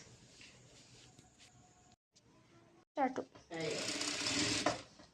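A sewing machine stitches a sleeve, with a short whirring burst near the end after quieter handling sounds and brief pauses, while someone talks.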